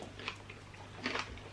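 Someone chews homemade sourdough bread, giving faint, close crunchy bites in two short bursts over quiet background, with no talk.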